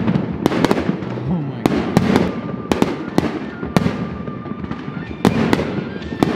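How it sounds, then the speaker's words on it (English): New Year 2024 fireworks go off outside a house in a rapid, irregular string of sharp cracks and booms, some overlapping, with faint voices in the background. "There's literally fireworks outside my house"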